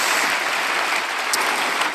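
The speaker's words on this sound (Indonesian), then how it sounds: "Berikan tepuk tangan kita untuk Tuhan kita." Congregation applause at a church service, a loud, close, continuous patter of many hands clapping with no voices over it.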